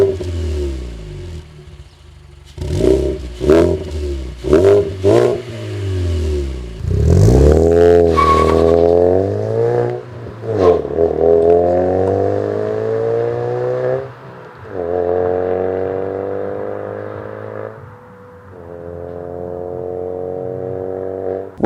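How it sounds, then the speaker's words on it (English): A 2022 Mazda 3 fitted with an HKS axleback exhaust and Cork Sport mid pipe revs up loudly several times in short bursts, then holds longer climbing and falling engine notes, close by with no talking. "I have the HKS Axleback exhaust, and that is paired with the Cork Sport mid pipe. It creates a really nice sound."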